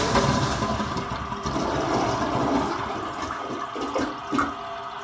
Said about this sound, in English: this is just basically how a normal vintage toilet tank would work